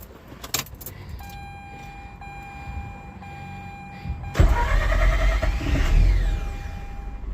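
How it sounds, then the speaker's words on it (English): A car with a new starter motor cranks briefly and catches, then settles into a running engine, preceded by a click and key jingle and some quiet interior noise before the start. "Let's just try with the new starter."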